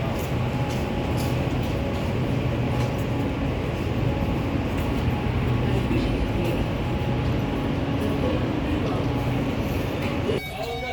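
Riyadh Metro train at a station platform, a continuous loud hum of the train and station ambience with a dense rumble throughout, overlaid by voices and a platform announcement, ending with a brief shift near the close.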